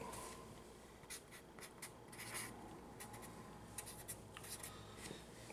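Writing out an absolute value equation by hand: a quiet, steady, close scratching with short stroke bursts and no voices.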